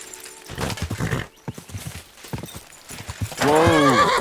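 Horse hooves clip-clop in a medieval-set game, Kingdom Come: Deliverance 2, with brief voices, then a loud whinny near the end.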